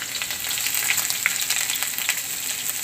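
Garlic and ginger sizzle in hot oil with cinnamon and cloves for a whole-onion curry, a steady, dense hiss of frying with a few faint crackles.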